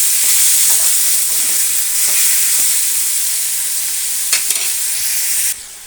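Chopped medium tomatoes frying in a hot pan for an egg and potato curry, a loud continuous close sizzle with a few stirring clicks and scrapes, ending abruptly as it drops off.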